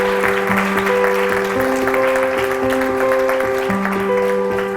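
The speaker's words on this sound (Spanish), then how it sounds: "y un fuerte aplauso." Audience applause closing an interview event, steady and loud clapping from many hands with a sustained tonal hum or music underneath, and no speech over it.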